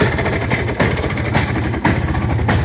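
A motorcycle engine runs steadily close by in Fergana, a loud, even mechanical drone with faint periodic pulses and no voices over it.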